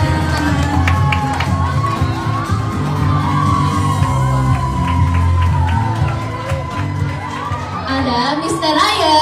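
A school audience at a debate competition during book week cheering and yelling for a judge being introduced, with loud whoops and shouts over crowd noise and a voice over a sound system.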